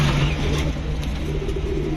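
A male red Giribaj pigeon gives a short, low, throaty coo close by, over a steady hum of background noise.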